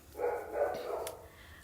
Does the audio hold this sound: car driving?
no